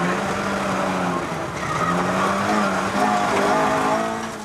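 A race car at the 1997 Inistioge hillclimb, a steady engine drone with shifting pitch, blended with crowd and ambient noise, as the car speeds past gates, lampposts and trees.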